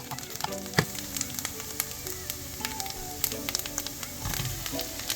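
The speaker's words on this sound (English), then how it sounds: "Now it's time to add our garlic paste, some basil paste, and just let it all come together, still on a really" Garlic paste and basil paste sizzling gently in a pan on a low fry, a soft continuous crackle with scattered sharp pops and spits, fairly quiet and close, no voices.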